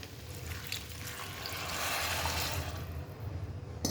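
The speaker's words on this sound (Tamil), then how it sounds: "நம்ம எடுத்து வச்சுருக்க தண்ணி ஆட் பண்ணிக்கலாம்" Water poured into a pot of shahi pulao with paneer, a steady broadband trickle and splash lasting a few seconds, close and moderately loud with no talking.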